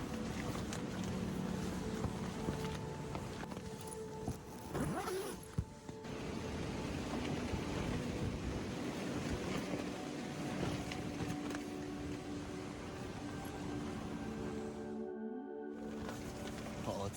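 Wind blows steadily at night high up in the air after rain, a constant rushing roar with faint gusts, briefly dropping out near the end.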